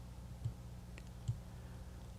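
Sparse computer mouse clicks while a buffer-size setting is dragged in audio recording software, three soft, isolated clicks spaced about a second apart over a steady low hum, with no talk.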